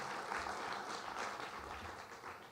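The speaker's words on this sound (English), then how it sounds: "I would like to give her a round of applause." Audience applause for a photographer at a community poetry class event, steady dense clapping from a seated crowd that fills the whole stretch at moderate, even level.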